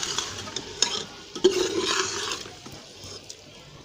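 A spoon scrapes and scoops tinda (round gourd) curry out of a pan into a serving dish, with a few clinks and soft wet stirring sounds that rise and then fade, without any talk.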